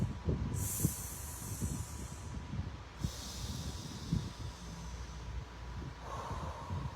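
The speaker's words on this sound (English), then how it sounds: "And then you can change the sound of your exhale," Slow breathing exercise for stress relief, with long exhales shaped through different vowel sounds: breathy, hissing rushes of air rising and fading in a few broad swells, close and steady over a low background rumble, no talking.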